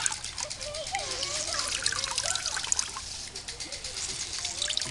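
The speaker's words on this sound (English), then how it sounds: "I'm going to squeeze the rest of the water out of this." Water squeezed by hand out of wet worm castings trickles and dribbles steadily, close by, with a voice talking over it.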